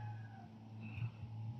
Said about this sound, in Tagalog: Tignan mo yung pusa, oh.